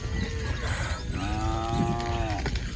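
A cow in a village on a winter morning lets out a single long, drawn-out moo, fairly close, over a steady outdoor background hum.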